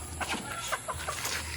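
Backyard hens clucking in short, close bursts, several soft calls overlapping in quick succession against a faint steady hum.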